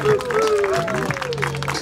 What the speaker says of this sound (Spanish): Dale tu cariño, fuerte los aplausos, público activo.